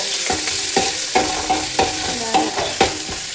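Crushed ginger, garlic, green chili, bay leaf, cinnamon and whole spices frying in oil in a pan for a soya chunk biryani, with a loud close sizzle and about eight rhythmic stirring scrapes.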